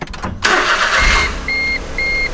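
A Smart car engine with a check engine fault cranks briefly and catches, then idles steadily while a high dashboard chime beeps twice.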